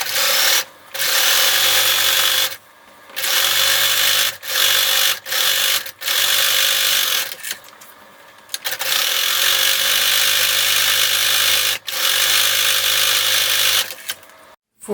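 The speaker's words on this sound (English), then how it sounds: "you're going to sew down each long edge with a 1/8 inch seam allowance to close that and keep it closed." Sewing machine stitching down the long edge of a fabric beach bag with a 1/8 inch seam: loud, continuous rapid mechanical whirring in several bursts, broken by short pauses.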